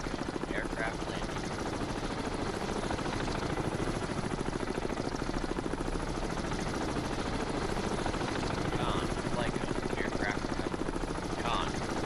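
A Wessex helicopter from the naval game Cold Waters, its rotor giving a steady, fast chopping thrum that stays loud and even throughout, with someone talking over it.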